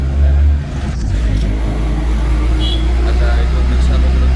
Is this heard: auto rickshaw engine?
yes